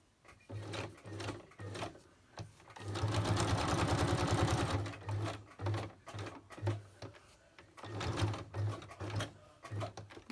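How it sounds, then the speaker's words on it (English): A sewing machine stitches through cardboard in rhythmic mechanical bursts, with one long steady run in the middle and shorter stop-start runs on either side, close and clear. "Okay, so that's stitched."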